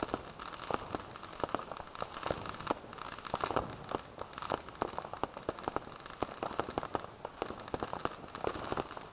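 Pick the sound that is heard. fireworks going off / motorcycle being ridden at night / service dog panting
fireworks going off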